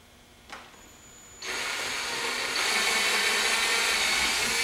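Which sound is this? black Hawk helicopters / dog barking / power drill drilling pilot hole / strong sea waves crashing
power drill drilling pilot hole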